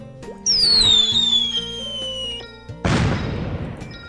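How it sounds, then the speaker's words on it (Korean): A fireworks effect in the MapleStory video game: a bright rising whistle burst followed by a second loud crackling explosion, over background game music. "폭죽 한번 뜨자 폭죽"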